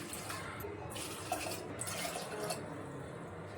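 Water is poured into a pressure cooker holding a mix of five dals with onion, garlic, asafoetida, turmeric and salt for Maharashtrian amti. It makes a faint, continuous splashing trickle, heard alone.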